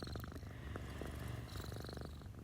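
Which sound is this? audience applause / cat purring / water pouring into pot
cat purring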